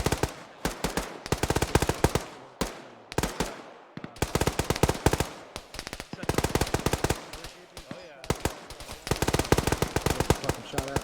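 Rapid bursts of automatic gunfire crack loudly in ArmA 3 as shots come in at the player, the volleys arriving in dense, repeated strings with brief gaps between them.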